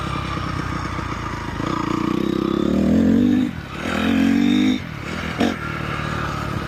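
A 2017 Honda CRF250R dirt bike runs nearby, its engine note rising and falling through several throttle blips, a drop in revs and a short burst, all over a steady idle and no talking.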